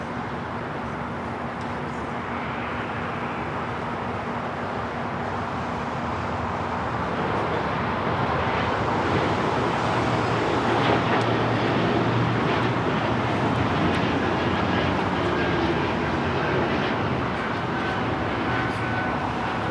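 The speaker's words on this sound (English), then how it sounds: "This is Porter 664 taking off to Toronto on the E195 E2." A Porter Airlines Embraer E195-E2 on its takeoff roll from runway 25 right at LAX, bound for Toronto, producing a loud, steady jet roar that swells gradually and stays broad and continuous, heard from a distance with no voices.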